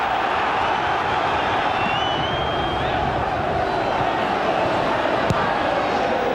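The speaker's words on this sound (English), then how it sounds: "just listen to the crowd" Football crowd at Stamford Bridge during a Chelsea FA Cup match against Liverpool, a steady dense roar of thousands of fans filling the whole stretch, with a faint whistle-like tone and one sharp bang near the end.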